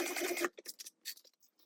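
Sewing machine stitching a fabric sling with back stitching at the start and end: a steady whirring run for about half a second, then several short, quieter stitch bursts and pauses. No one talks.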